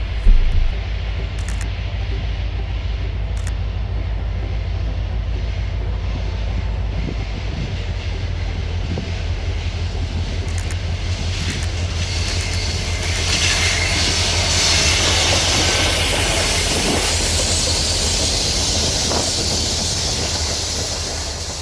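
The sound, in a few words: Conrail H57 train led by SD40-2 locomotive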